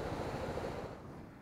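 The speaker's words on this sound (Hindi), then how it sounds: "कितना ज़्यादा पानी आ रहा है भाई इसमें।" A large volume of water rushes and churns in a broad, steady roar beside a mountain route, with some wind buffeting the microphone and no speech.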